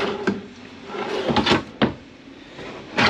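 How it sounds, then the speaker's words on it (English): A soft-close cabinet door in a 2024 Forest River Flagstaff Classic 281RK fifth wheel is pushed shut with a few close wooden knocks and a damped stop, not a slam. "these are easy closed doors here. Nothing's going to slam."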